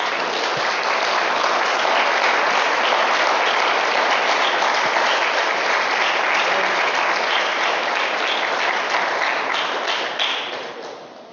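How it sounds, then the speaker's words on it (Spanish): A church congregation breaking into sustained, dense applause, a loud, even roar of many hands that holds steady before tapering off at the end. "usted pueda dar un aplauso a ese Dios maravilloso"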